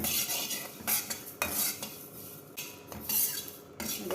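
Flax seeds dry-roasting in a kadai crackle faintly while a metal spoon scrapes and stirs. Sharp clinks and scrapes come in irregular bursts over a soft hiss, with no talking.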